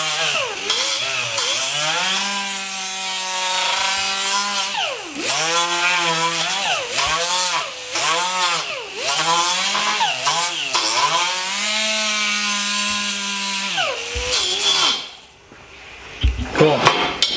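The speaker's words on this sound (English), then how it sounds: "That's why I like these little flapper discs so much. You just kind of lay it up. Basically sand metal." A grinder with a flap disc sands the metal edge of a door bar from a swing-out kit for a 1969 Camaro, a loud steady whine that dips and surges as the disc is worked, then stops.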